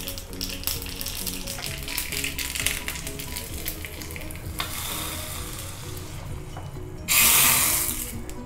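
Mustard seeds splutter and crackle in hot ghee in a small tempering ladle, a dense run of sharp pops and sizzle that ends in a louder hiss.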